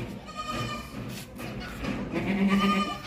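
A goat bleats in a farm pen where a nanny goat with two kids stands for sale, with a short wavering call rising near the end over a steady bed of background noise and faint voices.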